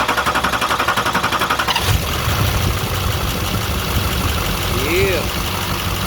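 A Duramax diesel truck engine cranks with rapid rhythmic chugging for about two seconds, then catches and settles into a loud, steady idle close by.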